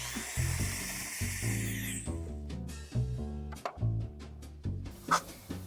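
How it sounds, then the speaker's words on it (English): A power drill bores angled pilot holes into base wood while building a tiki-style little free library, whirring in several short bursts that stop and restart, loud and close. "drilling at an angle into the base wood underneath."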